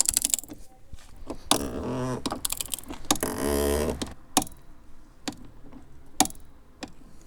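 Torque wrench tightening the oil filler cap on a BMW E39 engine, rated to 25 newton meters: sharp close clicks and ratcheting ticks in irregular bursts, with a louder sustained grinding stretch in the middle, no talking.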